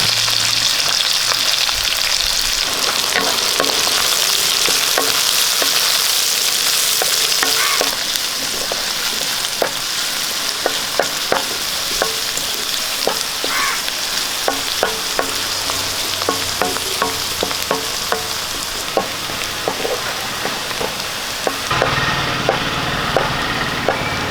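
Sliced shallots and curry leaves frying in hot oil make a loud, steady sizzle from start to finish, broken by frequent sharp crackles and pops and the scrape of stirring.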